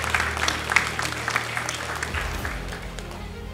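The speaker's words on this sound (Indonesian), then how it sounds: "Tepuk tangan untuk kita semuanya." Applause from the audience at a graduation ceremony, a moderately loud crowd clapping that fades gradually, with a low background hum underneath.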